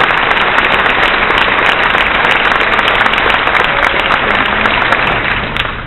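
A Comic-Con audience at a Stargate SG-1 panel bursts into loud, dense applause, a continuous roar of many hands clapping that holds steady for several seconds before starting to fade.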